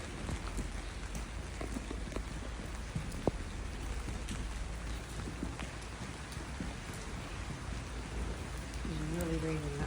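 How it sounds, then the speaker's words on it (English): Steady rain falls in a street in Sulmona, Italy, a constant hiss with scattered drops and a few sharp ticks, heard from close by and moderately quiet throughout. "It's really raining that way."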